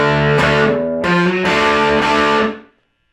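Distorted electric guitar in standard tuning playing a riff on an E bar chord: three loud, sustained chord strums in a driving rhythm, played alone and ringing out before a quick fade.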